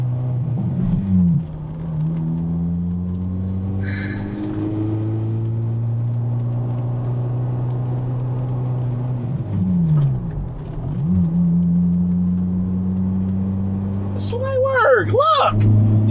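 A manual-transmission car engine hums and rises in pitch as it accelerates through gears, with shifts audible as pitch drops, under excited voices talking nearby.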